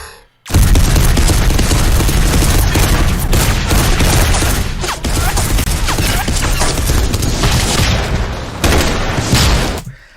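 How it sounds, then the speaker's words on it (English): Dense, continuous gunfire from an animated Warhammer film, a loud sustained fusillade of rapid shots and booms filling nearly the whole stretch, with no talk over it. "They're all shooting, doing the thing"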